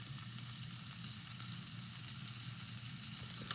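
Quiet, steady sizzle of sausage frying in a pan, a constant hiss with one small pop near the end.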